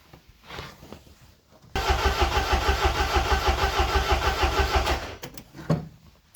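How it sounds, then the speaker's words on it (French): Citroën C15 TD diesel being started cold without glow-plug preheating: the starter cranks in a loud, steady rapid rhythm for about three seconds, then stops without the engine catching, leaving faint clicks and a thump. "Démarrage à froid sans préchauffage."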